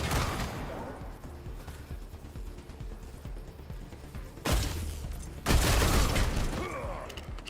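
Suppressing gunfire in the Wasteland 3 video game, a loud burst at the start fading out, then heavy sustained bursts of shooting and booming impacts rising near the end, with no talk over it.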